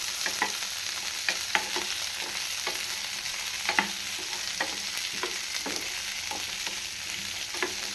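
Three large onions sauté in a pan for cauliflower gravy, giving a steady close sizzle broken by scattered scraping clicks from the stirring spoon, with no voices.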